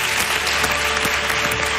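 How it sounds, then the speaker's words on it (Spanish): Audience applauding musicians on stage at a televised talent show, steady loud clapping that fills the whole moment without a break. "aplaudan a estos tres monstruos"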